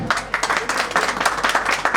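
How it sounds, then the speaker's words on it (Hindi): A crowd at a computer centre event claps loudly as a bouquet is presented, a close, steady burst of hand claps with pulsing bursts throughout. "जोरदार तालियां"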